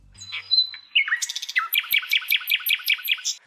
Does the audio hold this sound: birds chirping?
yes